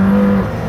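McLaren Senna 4-litre V8 engine heard from inside the cabin, a loud, steady droning roar with a strong low tone that eases slightly partway through.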